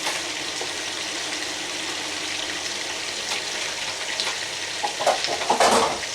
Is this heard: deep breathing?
no